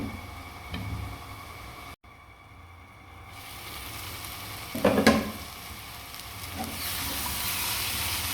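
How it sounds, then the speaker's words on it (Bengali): Sweet pumpkin hits a pan of sizzling turmeric, chili, ginger, cumin and garlic paste, giving a steady close frying hiss with a few stirring clatters and a brief sharp burst midway. "মশলা কষানো হয়ে গেছে, এখন মিষ্টি কুমড়া দিয়ে দেবো।"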